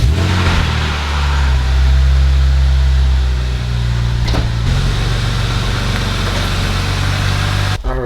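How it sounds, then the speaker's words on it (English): A Ford Mustang GT engine runs close by, a loud, deep idle rumble with a slight swell in revs as the car is pulled out, steady for several seconds with no talking. "let's pull the car out"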